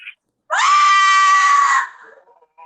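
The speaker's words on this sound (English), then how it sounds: "I'm hearing Wendigo sounds in the studio" A Wendigo screech sound effect plays as one loud, sustained, shrill howl lasting about a second and a half, then tails off into faint noise.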